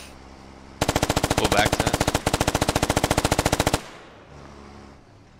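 Sustained bursts of rapid automatic machine gun fire in the military shooter game Squad, loud and close with a brief break partway, followed by a quieter tail and faint distant sounds; a voice speaks over the gunfire.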